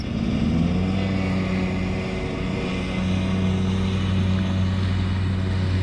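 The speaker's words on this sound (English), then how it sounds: "Sounds like a Cummins diesel, I think." Diesel engine of a Terex crane car body, identified as a Cummins, runs steadily nearby with a deep, even idle drone and strong low harmonics, no speech over it.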